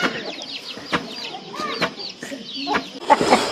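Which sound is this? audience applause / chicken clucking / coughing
chicken clucking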